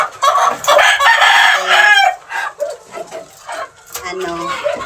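Pet gamefowl chickens make a loud racket close by: a rooster crows over a chorus of clucks and squawks, followed by quieter scattered clucking calls.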